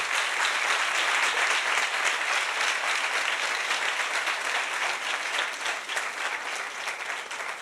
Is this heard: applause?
yes